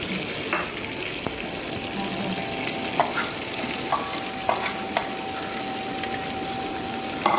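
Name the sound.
onion and green chilli frying in a wok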